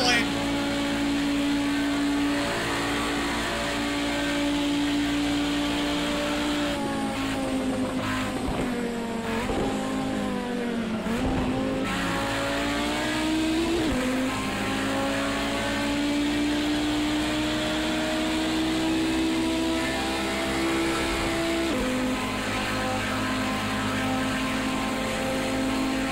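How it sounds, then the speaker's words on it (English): A fast car in the racing game Project Cars roars at full throttle, a sustained engine whine that climbs and dips through gear changes, loud and continuous for the whole stretch. "A fast car. I have my foot all the way down."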